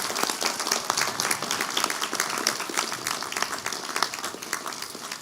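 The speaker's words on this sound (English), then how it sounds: "Let's give them a round of applause." A graduation audience for the Schenectady class of 2021 applauds, a steady, dense wash of many hands clapping at moderate distance that holds throughout with no break.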